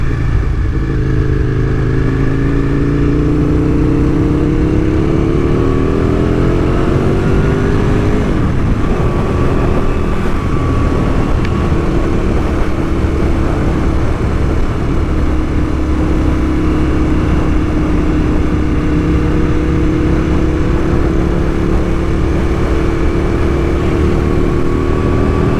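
A motorcycle engine runs loud and close in the rain, a continuous rough drone whose pitch climbs partway through, with a steady hiss of rain and wind mixed underneath.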